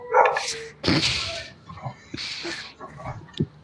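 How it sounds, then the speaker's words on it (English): A neighbor's dog barks and yips in short bursts that mix with people talking, the sounds clustered near the start and middle and fading into scattered lighter noises toward the end. "Sorry, my neighbor's dog is really loud."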